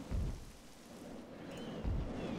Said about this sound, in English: I hate the rain and the darkness at the same time.